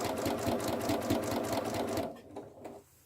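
A sewing machine rattles quickly and evenly as it stitches a bunny gift bag, close and loud for about two seconds, then stops and gives a couple of short fading clicks.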